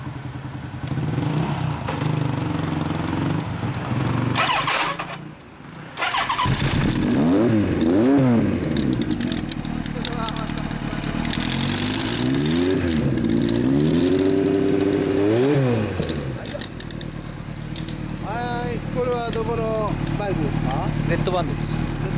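A 1975 Kawasaki Z1B motorcycle with a Moriwaki exhaust revs repeatedly, with several sweeping throttle blips rising and falling over a steady idle, while people talk nearby.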